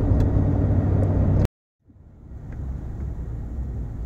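A car moving through light traffic, its engine and road rumble steady and close, cutting out abruptly to silence for a moment before the low drone swells back in at a slightly quieter level.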